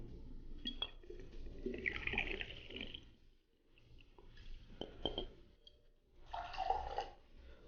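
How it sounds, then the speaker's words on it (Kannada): Vodka, 60 ml, poured into a glass already holding lime juice, with quiet splashing trickles in a few separate bursts and short pauses between, close and soft. "ಸೊ 60 ml ರಮಣವ ಹಾಕ್ಕೊಂಡಿದ್ದೀನಿ."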